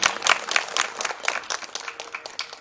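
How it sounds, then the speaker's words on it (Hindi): Steady applause from an audience at a Bhagwat Katha religious discourse, greeting flute player Rahul Maharaj Sanap; dense clapping carries on for the whole stretch, lively and moderately loud, with no clear talk over it. "उनके लिए भी जोरदार तालियां हो जाए"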